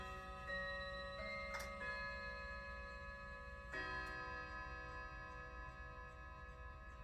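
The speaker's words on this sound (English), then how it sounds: "You're gonna hear the clock go off." A household clock ticks steadily and faintly while ringing tones sound over a constant low hum in a quiet indoor room, with no voices.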